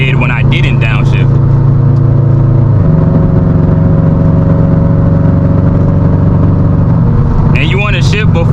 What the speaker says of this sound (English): Accelerated much faster than when I didn't downshift.